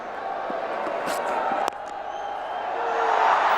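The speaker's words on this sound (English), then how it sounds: "Very generous round of applause." Crowd at a Test cricket match between India and England applauds Virat Kohli, a steady wash of broad clapping and cheering that swells slightly toward the end, with a sharp sound near the middle.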